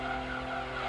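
An LMP Dragon race car spinning out in Gran Turismo 3, a steady tire squeal and engine drone held at an even level, fairly quiet and unbroken, with no talk over it.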